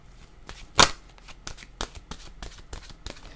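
Oracle cards shuffled by hand for an intuitive card reading, a burst of rapid riffling followed by a string of softer, evenly spaced card flicks and slides at close range, with no talking.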